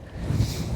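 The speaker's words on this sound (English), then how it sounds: "we've got a real 3-4 club wind today" Strong wind on a links golf course at Prestwick Golf Club, a low rushing buffet against the microphone that swells briefly, with no voices.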